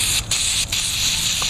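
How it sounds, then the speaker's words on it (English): Deep Creep cleaner sprayed from an aerosol can onto a Briggs and Stratton Pulsa Prime carburetor, a loud continuous close-up hiss with two brief dips in pressure. "Just spray all this up really good."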